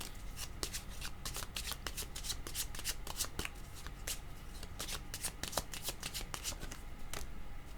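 Tarot cards are shuffled by hand close up, making a steady, continuous papery riffling and flicking that lasts throughout without speech.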